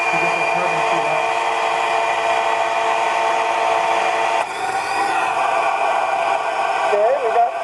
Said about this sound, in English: It's a vacuum cleaner blowing to get the carbon speed up.